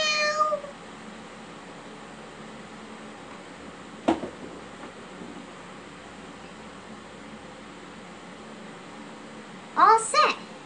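A cat meows at the start and again near the end, short rising cries close by, with a sharp knock between and quiet room hum around it.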